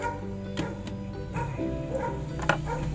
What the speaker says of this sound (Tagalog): maingay yung mga aso sa tapat namin